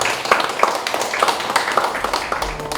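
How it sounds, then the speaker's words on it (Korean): Audience applause at an anniversary forum and discussion event, a steady patter of scattered hand claps from a modest crowd sustained for a few seconds without voices. "뜨거운 박수로 맞아주세요."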